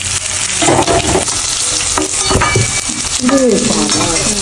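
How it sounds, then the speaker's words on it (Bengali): Potatoes frying in oil in a pan for a vegetarian paneer dish, a loud continuous sizzle broken by stirring scrapes and clinks of a utensil against the pan. "দেখতে পাচ্ছ আলুগুলো কিন্তু একদম লাল লাল করে ভাজা হয়ে গেছে"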